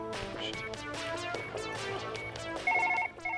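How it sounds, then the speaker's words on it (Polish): In the surgery video game Surgeon Simulator 2013, a telephone rings in repeated electronic bursts over a musical backdrop, with a brighter, louder ring near the end and no talking. "Telefon!"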